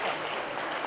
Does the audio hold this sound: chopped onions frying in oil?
no